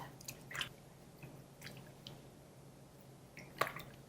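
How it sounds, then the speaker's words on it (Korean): Cleaned abalone is rinsed in water, heard as faint, soft splashes and wet squishes at irregular intervals, with a few sharper drips. "이렇게 해서 물에 헹궈 주십니다"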